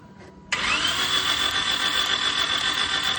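A Toyota Vios engine that has lost compression cranks with a sudden onset into a steady, fast, even whirring drone with a high whine, loud and close, continuing without catching, with no talking.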